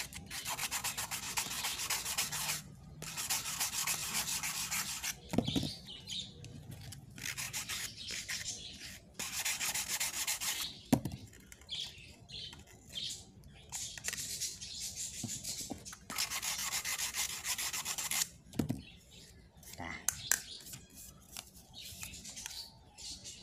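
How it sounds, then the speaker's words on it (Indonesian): Steady scratchy rubbing of sandpaper on PVC pipe, in long back-and-forth bursts separated by short pauses and a few sharp knocks, close up. "Selanjutnya kita amplas."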